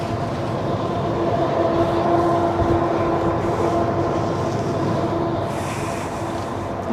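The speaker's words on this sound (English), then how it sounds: "There's a train going by," A train passing in the distance, heard as a steady low rumble with faint wheel squeal tones, carried on the wind, continuous throughout with no talking.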